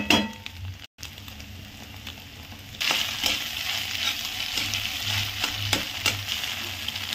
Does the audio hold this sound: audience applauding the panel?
no